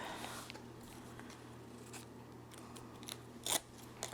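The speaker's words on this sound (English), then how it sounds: "I'm going to need to cut this edge off." Scissors snip the edge off a strip of washi tape in a quiet room, a few soft cuts leading to one sharp, louder snip near the end, followed by a faint click.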